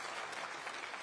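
A brief burst of dense clapping from a crowd at the 2024 Conservative Party Conference, quiet and steady, with no voice over it.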